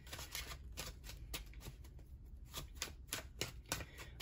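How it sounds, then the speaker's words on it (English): A quick run of soft, papery riffling and slapping as a deck of tarot cards is shuffled, with brisk irregular bursts close by. "Let me just shuffle up these tarot cards really quick."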